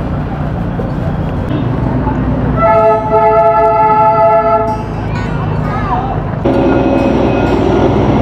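The Darjeeling toy train passes near Kurseong station, its horn sounding a long multi-tone blast over steady rumbling road and motorbike engine noise.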